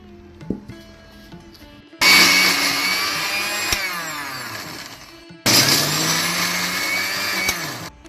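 A kitchen mixer grinder whirs through masala with a little water for Mangalorean stuffed brinjal, two loud grinding bursts of a few seconds each, separated by a short pause with faint clinks and near-silence.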